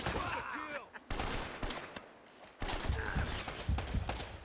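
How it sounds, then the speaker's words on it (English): Enemy gunfire in Uncharted: Drake's Fortune, with scattered bursts and sharp shots from several directions, loud and choppy, mixed with game effects and a few sudden cracks. "They can still shoot me around these corners."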